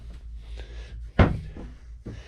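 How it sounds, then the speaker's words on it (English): A single solid thump of a door shutting inside a Forest River Quailridge park model RV, following quiet shuffling movement, then a softer knock afterward. "forgot to close the door"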